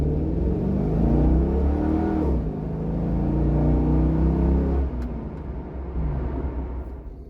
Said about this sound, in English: I accelerated fairly rapidly a couple of times